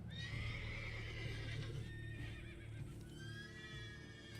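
A horse in the video game The Witcher 3 neighs with a long, wavering whinny over soft hoof clip-clops, close and clear.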